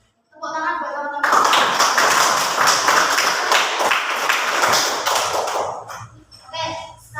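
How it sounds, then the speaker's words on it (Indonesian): Classmates in a classroom give a burst of lively applause lasting several seconds, with voices heard at the start and as the clapping fades. "Tepuk tangan buat teman-teman."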